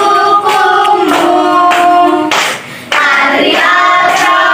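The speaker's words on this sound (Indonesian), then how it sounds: "Tepuk tangan." Hands clap in a steady beat during a classroom microteaching lesson, accompanied by a group singing a patriotic song loudly throughout, with the claps sounding as sharp bursts over the melody.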